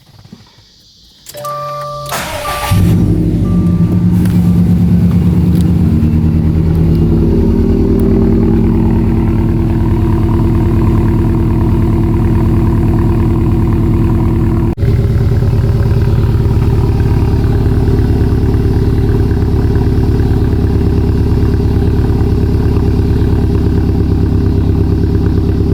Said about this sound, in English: time for a, I guess, warm start maybe